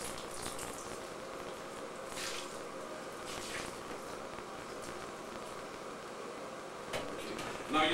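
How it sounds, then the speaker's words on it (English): Water poured onto a floor sample tile makes a faint, steady splashing and trickling under quiet room tone for several seconds, ending with a brief louder splash. "Just pour the water on the floor."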